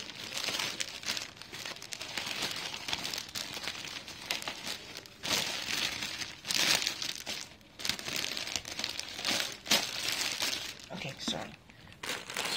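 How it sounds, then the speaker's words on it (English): Bra being pushed back into its plastic packaging, with repeated bursts of crinkling and rustling plastic close by, broken by short pauses and accompanied by talking. "Because I need to put it back in the plastic."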